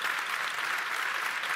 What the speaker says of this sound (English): I think they all deserve a round of applause from us all.